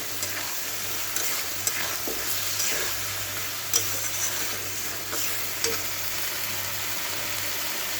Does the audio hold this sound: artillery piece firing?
no